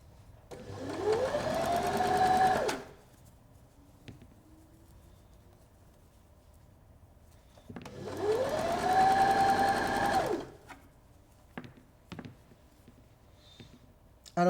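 A sewing machine runs two zigzag-stitch bursts of about three seconds each along the edge of soft jersey fabric for a chemo cap, separated by a quiet pause with light handling clicks near the end.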